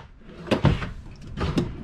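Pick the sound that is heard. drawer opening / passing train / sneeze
drawer opening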